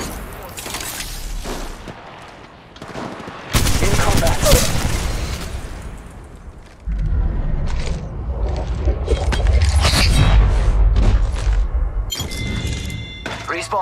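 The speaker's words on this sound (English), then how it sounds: "Shots fired in there." Rapid gunfire bursts in the Apex Legends battle royale game, loud and close, with sharp impacts and game effects, interrupted by quieter stretches, while a voice talks over parts of the action.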